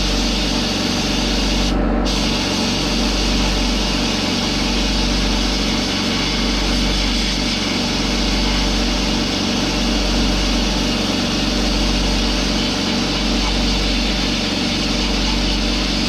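A Supercheap Auto sandblaster stripping paint off rusted metal runs as a loud, steady hiss of blasting grit over a pulsing compressor motor thump, continuous and close with no voices.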